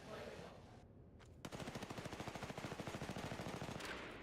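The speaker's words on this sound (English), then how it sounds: "you're gonna full blast a clip, and I want you to see how the recoil goes" A full-auto burst of video game gunfire, a rapid even string of loud shots that starts abruptly after a short quiet stretch and runs for about three seconds.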